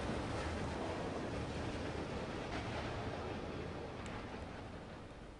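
Steady wash of water and surf-like noise in the side-scrolling puzzle game Limbo, a continuous broadband rush that holds even throughout and fades slightly toward the end, with no voices.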